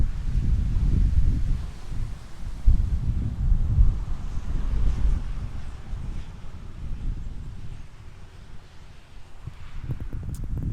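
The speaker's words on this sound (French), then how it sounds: "Oh, il y a le vent." Wind buffets the microphone outdoors in heavy, uneven gusts, strongest early on and then easing into a softer, steady rush.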